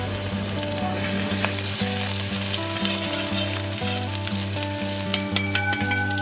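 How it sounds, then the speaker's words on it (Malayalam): Garlic and ginger frying in hot oil in a Kerala uruli give off a loud, continuous sizzle with crackling bursts, over a steady low humming tone. "എണ്ണ തിളച്ച് വന്നതിന് ശേഷം വെളുത്തുള്ളി, ഇഞ്ചി എന്നിവ ചേർത്ത് കൊടുത്ത് ഒരു 2 മിനിറ്റ് ഒന്ന് മൂപ്പിക്കാം"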